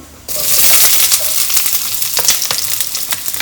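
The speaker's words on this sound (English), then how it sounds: "So I have added 1 tablespoon of oil in a pan. Add onion." Chopped onion dropped into a tablespoon of hot oil in a pan, bursting into a loud, close, continuous sizzle with crackling spits that carries on to the end, with no talking.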